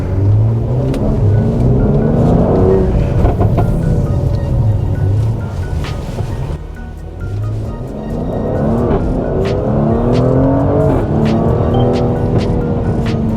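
A Mercedes GLC43 AMG drives hard with a loud, close engine roar that rises and falls through downshifts, the exhaust sharp and raw throughout; the individual crackles and pops are hard to pick out.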